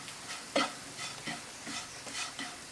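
Fennel powder and garam masala sautéing in a pan, faint sizzling with several soft scraping stirs, one sharper knock near the start, close but quiet.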